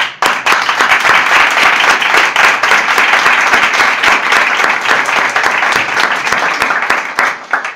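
A conference audience gives loud, sustained applause, dense clapping from many people close by that holds steady for several seconds before tapering off at the end.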